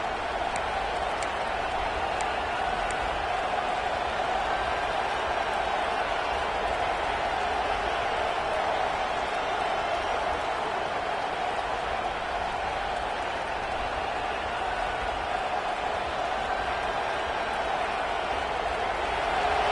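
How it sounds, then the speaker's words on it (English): A large stadium crowd at an Ohio State vs USC football game roars in a steady wash of noise, with cheering and scattered clapping sustained throughout, distant and diffuse. "This crowd bringing the energy and noise early."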